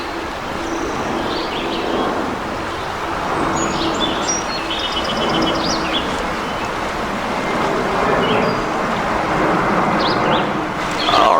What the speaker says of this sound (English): Maybe we got an airplane coming.